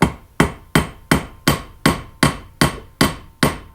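A hammer taps a spindle back down on a Case 224 garden tractor mowing deck, nine sharp, evenly spaced metallic strikes, close and loud with short ringing decays.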